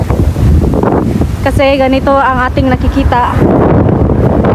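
Strong seaside wind buffets the microphone in a steady, loud broadband roar on a beach, with someone speaking over it partway through.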